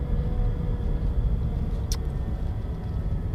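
Vauxhall Astra, a heavy car of about 100 brake horsepower, cruising around town with a steady low engine and road rumble inside the cabin and a brief faint tick partway through.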